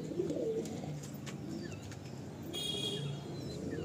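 A Kalsira pigeon coos in a loft, low soft cooing murmurs repeating under a busy background of other birds chirping and faint fluttering nearby.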